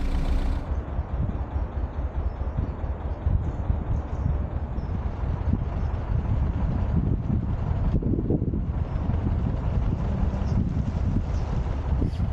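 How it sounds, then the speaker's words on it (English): Strong, blustery wind on a canal beside a moored narrowboat roars steadily and loudly into the microphone, buffeting continuously for about twelve seconds with no talk. "it's a very blustery, windy day today"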